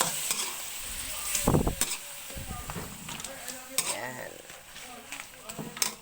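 Shrimp dropped into a hot buttered pan for buttered shrimp, sizzling and frying with stirring clatter and a few sharp utensil knocks, loud and close, while someone talks over it.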